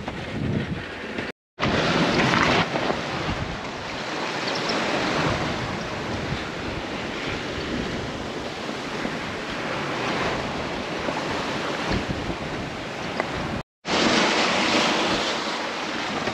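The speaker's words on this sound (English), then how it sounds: "I've got some heavy rollers from the back" Heavy ocean rollers coming from astern of a sailboat on a solo passage to Trinidad, a continuous loud wash of surf and wind noise with no talk.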